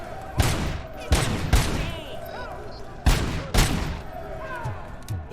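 Gunfire in the Robocop: Rogue City game: about five loud, punchy shots in uneven pairs, each with a short echoing tail, over quiet ambient game sound.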